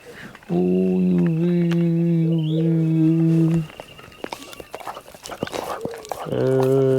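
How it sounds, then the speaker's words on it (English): A dog at an outdoor site where a damaged earthbag root cellar is being dismantled gives two long, steady whining cries, the first lasting about three seconds and the second starting near the end. Quieter shuffling and movement noises fill the gap between them. "You've a dog."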